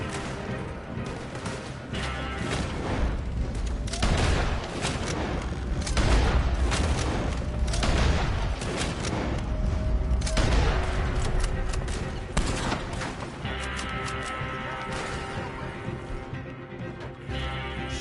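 Gunfire in a Western shootout in Red Dead Redemption style gameplay, dense overlapping rifle and pistol shots with booming impacts, continuous and loud throughout, with brief voices shouting.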